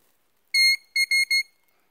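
An electronic alarm beeps loudly and alone: one long tone, then three quick beeps in a row, followed by silence.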